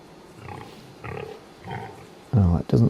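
Pigs on a farm in Farming Simulator 25 give a few soft, spaced grunts, then a voice speaks close over them.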